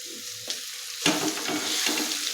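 Chopped bottle gourd tipped into a pan of hot oil and spices, a quiet hiss that suddenly swells into loud, close sizzling and crackling, with a stirring scrape partway through.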